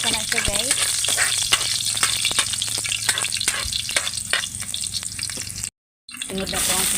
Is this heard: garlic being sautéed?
yes